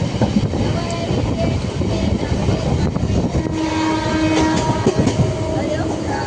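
Diva-Roha passenger train heard from inside a carriage, with continuous rumbling motion and rattling, and a horn sounding partway through, close and loud.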